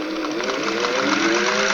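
A sewing machine stitches a quarter-inch seam along the faux binding of a potholder made from recycled towels, a fast, steady whirring run heard up close with no talk.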